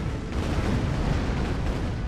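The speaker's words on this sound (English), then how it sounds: "Firework." Firework shot exploding in the artillery game ShellShock Live, a dense, sustained blast lasting about two seconds at steady loudness, with no voices over it.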